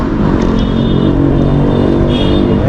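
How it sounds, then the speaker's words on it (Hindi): Loud, steady traffic roar on a busy city road near the city centre of Kolkata, with vehicle engines rumbling close by throughout. "गाड़ी बहुत ज़्यादा ही आवाज़ करता है।"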